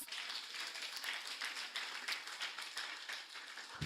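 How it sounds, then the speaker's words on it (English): An audience at a primary school graduation ceremony in Jamaica applauds, a steady patter of many hands clapping, fairly faint and distant, running throughout. "Can we give them a round of applause?"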